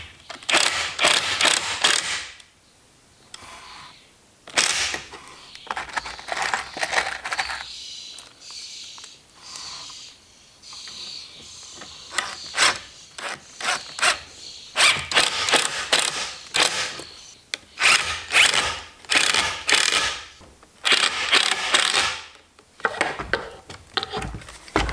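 Cordless drill driving 1-inch Kreg pocket screws into 1/2-inch plywood drawer boxes, a run of rapid whirring and ratcheting bursts in short repeated spurts with brief pauses, close and fairly loud, no talking.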